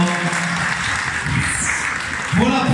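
Steady applause from a crowd fills the room, with a voice briefly speaking over the clapping.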